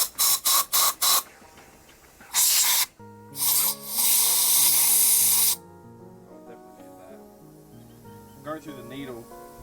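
A 1968 Jaguar 420G carburettor, needle and seat, being flushed with spray cleaner that jets through the needle and out the bowl: several short hissing bursts, then a longer sustained spray, followed by steady background music.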